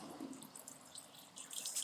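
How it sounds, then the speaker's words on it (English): Water is poured from a bottle into a small container to mix a small batch of grout, making a faint, continuous splashing trickle. "So what I'm gonna do is pour water"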